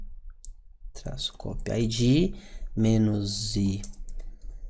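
A computer keyboard is tapped while an ssh-copy-id command is entered for an Ansible server setup, giving quick light clicks that sit under someone speaking Portuguese for most of the stretch.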